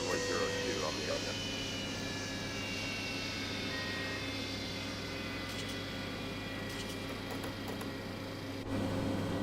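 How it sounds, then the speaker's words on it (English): Boeing 727 in Microsoft Flight Simulator 2024 spooling down on the ground after ground power is connected, a loud steady jet engine roar with whining tones that slowly fall in pitch, continuous throughout with a faint click near the end. "the engine shutdown sounds were for all three"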